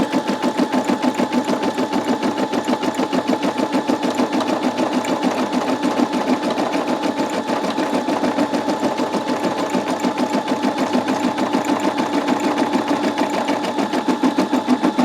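Brother SE625 embroidery sewing machine stitching in a fast, steady mechanical rhythm, close and continuous with no voices.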